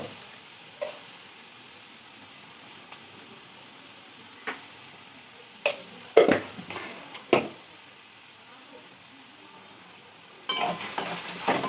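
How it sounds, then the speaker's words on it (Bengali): Vegetables fry quietly in a pan with a low sizzle, broken by scattered clicks and scrapes of a spatula stirring, with a louder burst of stirring near the end. "তো প্রায় ভাজা ভাজা হয়ে এসছে"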